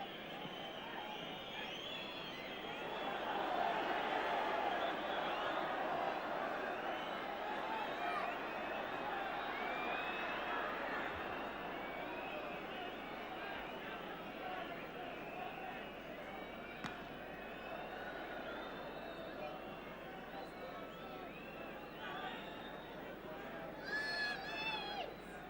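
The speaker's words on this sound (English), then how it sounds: "Crowd anxious for the final whistle." Football crowd at a 1981 First Division match, a broad steady roar and murmur throughout the ground, swelling early and holding as a dense wash, with a commentator's voice running over it.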